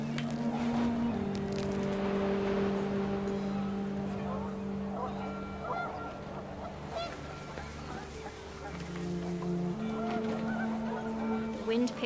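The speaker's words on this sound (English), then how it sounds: "panicked geese appeared and quickly went" Panicked geese honk repeatedly in What Remains of Edith Finch, a steady chorus of overlapping calls over blowing wind, loud and continuous throughout, with voices briefly mixed in.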